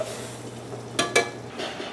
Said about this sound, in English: the fish is cooking, it's covered up